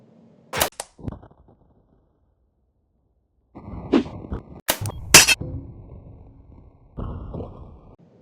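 Nerf blasters firing darts in a Nerf battle: a couple of sharp pops early on, then a quiet gap, then a rapid cluster of snapping shots with rustling movement and a final burst of clatter.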